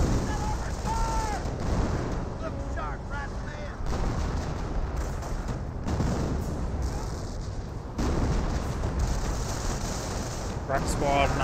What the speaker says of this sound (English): Let's extend a barrage here and here.